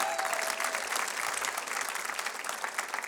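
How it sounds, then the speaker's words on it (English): Steady applause from a studio audience during a television talk show, dense clapping holding at an even level throughout with no voices over it. "Give him a nice round of applause back there."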